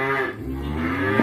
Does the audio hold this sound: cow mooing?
yes